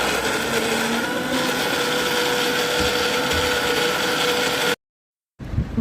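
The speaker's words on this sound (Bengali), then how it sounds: "রোস্ট রান্না করার জন্য মারিয়া মশলা ব্লেন্ড করে নিচ্ছে।" An electric blender grinds spices for a roast with a loud, continuous, close whirring drone. It cuts off abruptly and then starts up again.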